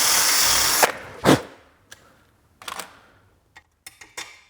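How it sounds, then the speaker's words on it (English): A drill bit opening up a hole in a brake bracket on a 35-year-old Land Rover Defender, a short loud burst followed by a few scattered clicks and small taps, nearby, with no talk. "just take a drill bit and just drill that hole out a tiny bit"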